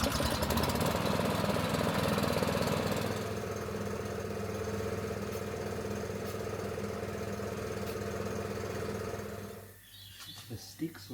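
A small engine running a tyre pump at a remote Queensland station chugs steadily at idle, loud and close, then cuts out near the end, leaving quiet outdoor ambience with birds.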